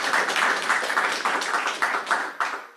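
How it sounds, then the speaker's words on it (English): Audience applause for a speaker at a scientific conference symposium, close, loud clapping with a clear rhythmic pulse from a smaller group, fading at the end. "final round of applause for Lauren, please."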